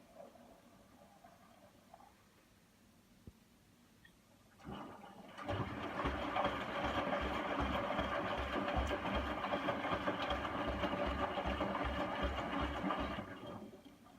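A Hotpoint washing machine runs a mix wash 15 cycle with washing powder. After a few quiet seconds, a steady, loud rushing and churning starts and holds for about nine seconds, then cuts off.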